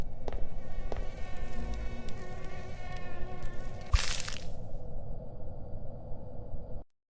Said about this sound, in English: I added sound effects and particle effects to the wand.